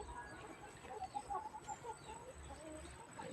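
Chickens clucking faintly around an outdoor garden plot, a few soft scattered clucks and coos over a low hiss of ambient noise.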